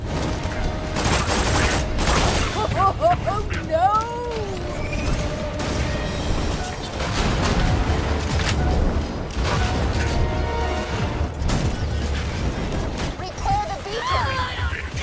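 Combat in the video game Borderlands 2 against a badass loader robot shooting fire, with dense bursts of gunfire, booms and whooshing mechanical sounds running continuously and loudly, and a voice talking in places.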